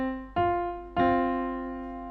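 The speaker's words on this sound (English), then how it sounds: "If you've got a C and an F, the interval is a fourth" Two sustained piano-like tones, C followed by F a fourth above, each struck cleanly and left ringing in turn, forming a perfect fourth interval with no voice present.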